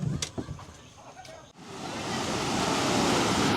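Floodwater after heavy rain, yellow and fast, rushes over a transnational waterfall on the China-Vietnam border in Chongzuo, Guangxi; a broad, steady roar swells loud and close partway through, with a brief voice early on.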